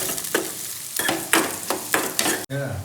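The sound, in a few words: onions frying in pan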